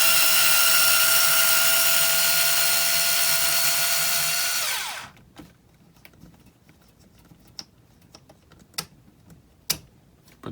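A power driver whirs loudly and continuously as it backs a screw out of the retaining arm on a rock slider, then cuts off abruptly, leaving scattered small clicks and taps of handling the part.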